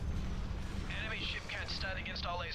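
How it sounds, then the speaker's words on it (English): Missile platforms launch in a space battle in Star Wars Awakening the Rebellion, producing a dense, continuous rumble of fire and blasts, while someone talks over the barrage in the second half. "I really like the looks of these missiles."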